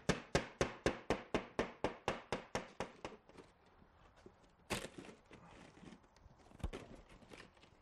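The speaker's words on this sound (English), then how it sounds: "tap it gently with a hammer and break the sheet" A hammer taps scored ceramic tile in a quick, even series of about fourteen sharp knocks, followed by quieter scraping and handling and two louder cracks as the sheet breaks.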